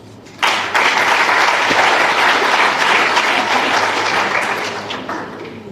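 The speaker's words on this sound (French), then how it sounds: "je voudrais que ça s'applaudisse ça" Sustained audience applause at a political party rally in Côte d'Ivoire, breaking out suddenly and holding steady as a dense, loud wash of clapping before tapering slightly toward the end.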